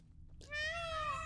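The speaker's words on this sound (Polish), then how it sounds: "coś tutaj już wydaje jakiś dziwny dźwięk i to pewnie jest paw" A peacock calls in The Witcher 3 video game, a single drawn-out wailing cry rising after a short quiet moment, close and clear, much like a cat's meow.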